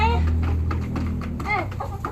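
Backyard laying hens cluck around a child who calls to them in Thai, the birds' short clucks scattered under and between the close, steady talk.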